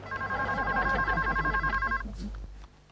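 A telephone rings with a rapid trilling bell for about two seconds, then stops, leaving a low hum.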